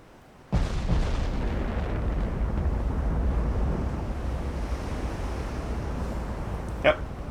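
A warship's naval guns fire in Ultimate Admiral Dreadnoughts, a sharp onset boom at the start giving way to a sustained roar over the rest, with a brief high crack near the end and a voice speaking over it.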